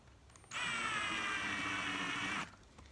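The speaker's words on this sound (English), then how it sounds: "we're going to try to drill in" A power drill drives an oversized screw into thin wood for a stacking box, a steady high-pitched whine lasting about two seconds, close and loud, with no talking.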